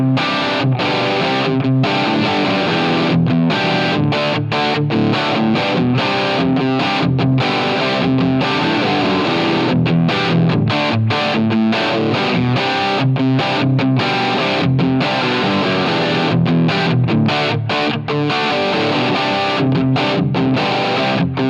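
Electric guitar played through a Gatekeeper GK-Drive overdrive pedal with the tone knob rolled back for a darker voice, a steady, dense distorted riff with continuous chords and notes ringing loudly and alone for the whole stretch.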